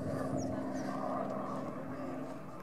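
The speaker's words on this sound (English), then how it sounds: "We got a helicopter over" A helicopter flies over Mount Washington, heard as a faint, distant engine drone that holds steady and fades slightly toward the end, without talk.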